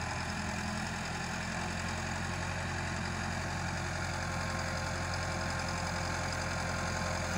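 An old Massey Ferguson 385 tractor fitted with a front blade runs nearby, its diesel engine chugging in a steady, dense idle-like rumble throughout, with no talk over it.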